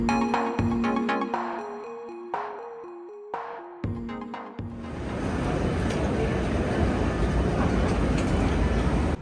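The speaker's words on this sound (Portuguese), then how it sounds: "Eu peguei o S-Bahn, o trem de superfície" A Berlin S-Bahn commuter train gets underway, its electric drive giving a stepped whine of rising tones before settling into a steady, fairly close rolling roar.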